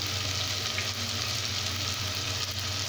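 Tomatoes and spices sautéing in a pan for a mushroom kurma, giving a loud, steady, close hiss of frying that runs unbroken throughout with no talk.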